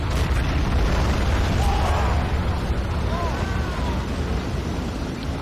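Dense, continuous rumbling booms and blasts fill the soundscape of a tank battle in Men of War: Assault Squad 2, with German tanks attacking in Russia. Background sound layers over it, with a few faint whistling tones.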